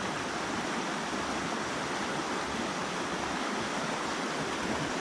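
A strong river flowing beside an African village riverbank produces a dense, steady rushing wash of water that stays constant and even throughout, with no voices.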